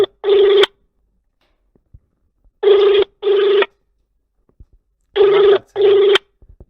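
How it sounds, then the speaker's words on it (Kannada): Telephone tones during a live call, heard alone: three groups of steady electronic beeps, a single burst followed by two paired bursts, evenly spaced with silence between, loud and close. "ಲೈವ್ ನಲ್ಲಿಯೇ THO ಅವರಿಗೆ ಫೋನ್ ಕಾಲ್ ತೆಗೆದುಕೊಳ್ತಾ ಇದ್ದಾರೆ, ರಿಂಗ್ ಆಗ್ತಾ ಇದೆ"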